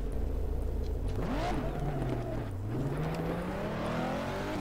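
A very fast race car in the racing game Race 07 drives continuously, its engine note rising and falling through revs as it accelerates and shifts, loud and steady throughout with no talk.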